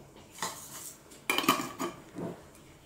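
A tablespoon scoops flax seeds for an oat porridge breakfast, giving a few short metallic scrapes and clinks of spoon against a bowl or container, close and fairly quiet, with no voices.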